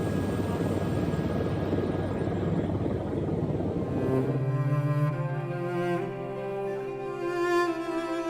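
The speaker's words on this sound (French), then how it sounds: "Nous allons pouvoir faire le tour en hélicoptère." A helicopter on a sightseeing flight over Niagara Falls produces a constant loud rotor and engine drone. Midway through, the drone settles into a steadier tone as the engine pitch shifts.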